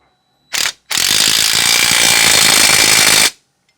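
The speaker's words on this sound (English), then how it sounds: "you'll use your OEM fastener to tighten it and mount it to the upper control arm" A power ratchet or impact tool tightening the OEM shock fastener on a Can-Am Defender HD11 upper control arm: a short blip, then a loud, steady, close rattling buzz lasting over two seconds before it stops abruptly.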